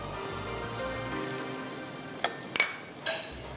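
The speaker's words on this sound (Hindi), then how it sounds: "शैलो फ्राई कीजिएगा, बहुत ज़्यादा ऑयल शामिल मत कीजिएगा, हल्के हल्के से फ्राई कर लें।" A potato filling shallow-fries in a little oil for a mince dish, giving a steady soft sizzle and crackle, with a few sharp clinks of a utensil near the end.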